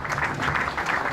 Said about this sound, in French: j'aimerais qu'on les applaudisse